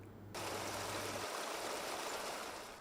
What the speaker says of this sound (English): A little bubbling jet of water quickly turns into a stream, gushing downhill toward the residential areas